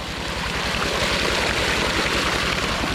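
Water gushes loudly and continuously from a pump's three-inch outlet pipe into a flooded rice field, a steady close rushing roar with a rhythmic low throb from the pump underneath.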